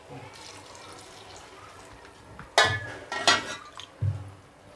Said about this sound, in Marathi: 3 ग्लास पाणी टाकू